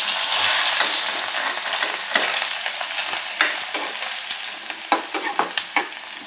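Onions sizzle in hot oil in a pan for a potato and bombil dish, a steady bright frying hiss broken by the scrape and clatter of a spoon stirring, growing more frequent toward the end, with no voices.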